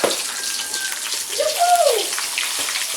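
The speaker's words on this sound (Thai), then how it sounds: "ใส่พริกแกงลงไปไม่เยอะมาก ผัดพริกจ้ะ" Chili curry paste stir-fried in hot oil, a steady close sizzle and hiss with a brief metallic scrape of a utensil, and faint voices in the background.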